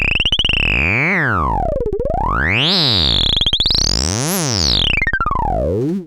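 A loud, buzzy TyrellN6 synthesizer tone with LFO modulation sweeps up and down in pitch in slow, repeating waves, with a gritty, distorted edge throughout.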